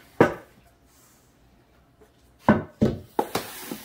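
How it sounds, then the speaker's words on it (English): A wooden cutting board knocked and set down on a kitchen counter, one sharp clack, a quiet pause, then a quick cluster of three or four knocks and scrapes close by, with no talking. "Let's grab a cutting board."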